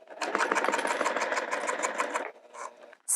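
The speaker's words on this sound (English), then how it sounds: "You don't have to back stitch on this one because it'll get sewn over again." A sewing machine stitches TPU vinyl for a zipper pouch at a 3.5 stitch length, a steady close whirring run of rapid needle strokes for about two seconds, then a brief pause and a short final burst.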